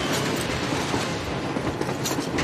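A train passes at close range in the video game Metro Exodus, a dense, loud, continuous rumble and clatter filling the whole stretch with no break.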